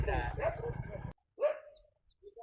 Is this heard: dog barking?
yes